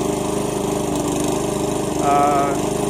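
A lawn mower engine runs continuously while cutting a home lawn, a loud, close, pulsing drone that rises slightly in pitch near the end.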